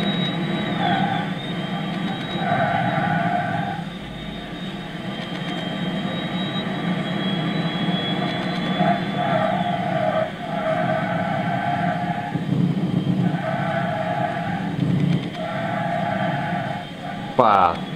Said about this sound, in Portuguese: aqueles zumbidos típicos de carro elétrico